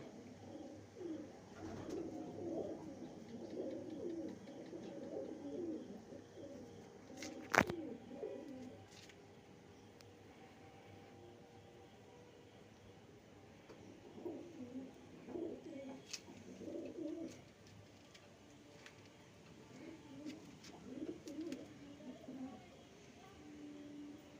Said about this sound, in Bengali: এটা অনেক অনেক পায়রা